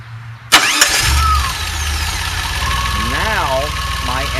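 A DeLorean engine with an HEI ignition coil cranks and catches with a sharp start, then settles into a steady, loud, close idle with rhythmic knocking texture, while a voice speaks over it.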